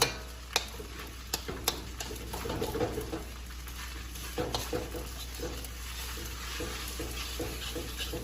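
Rice and vegetables stirred and frying in a pan, a soft steady sizzle with sharp scrapes and taps of a utensil on the pan, fairly quiet and close.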